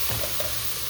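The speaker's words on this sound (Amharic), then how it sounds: "ሽንኩርቴን እያበሰልኩ ነው" Onions frying in a pan, a steady, close hiss of sizzling that carries on without a break, with no voices.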